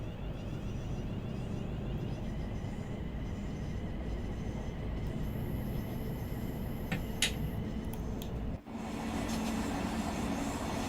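Thameslink Class 700 electric train running in the Train Sim World game, a steady rolling hum with brief high-pitched whines partway through and a short dip before the running noise resumes.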